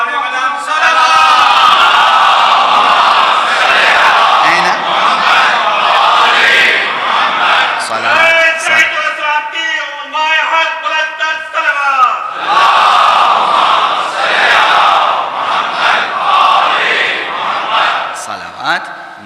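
A congregation at a Shia majlis-e-aza chants salawat blessings together, loud massed voices rising and falling in waves with brief pauses, a lone voice leading between the collective responses.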